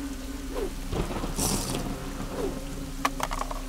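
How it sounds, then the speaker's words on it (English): Steady rainfall in an animated game patters over a low rumble of thunder, with a few faint clicks and knocks near the end. "Ugh, why does it have to rain?"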